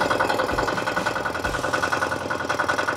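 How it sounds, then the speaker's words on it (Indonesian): An FTI 2010DE mini four-wheel tractor's engine idles close up, a loud, steady, throbbing rumble with a regular mechanical pulse and no speech. "Oke, sekarang saya sudah berada di atas FTI 2010DE traktor 4 roda ini."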